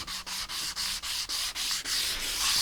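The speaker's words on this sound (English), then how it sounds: "I'm just finishing off the sanding with 150 around the edges" Sandpaper, 150 grit, rubs back and forth over wood edges in quick, regular strokes, a dry rasping rhythm close by with no talking.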